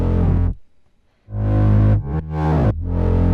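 Thick, distorted synth bass notes layered with a Moog, loud and buzzy, with a brief gap and a swooping pitch drop between sustained tones.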